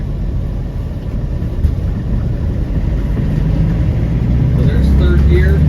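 A 1997 Land Rover Defender 90 with the 300Tdi diesel pulls hard in third gear after a sharp clutch drop, a loud steady engine drone rising in pitch, heard from inside the cab as a voice talks over it.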